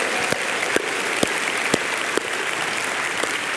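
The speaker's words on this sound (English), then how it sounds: "big round of applause" Steady applause from a conference keynote audience, dense and continuous with a few louder individual claps standing out.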